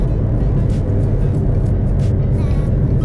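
A 2018 McLaren 720S sports car drives along, its dense engine and road roar steady and close from start to finish with no voices.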